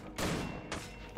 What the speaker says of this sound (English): Hit the dummies with the shotgun special attacks.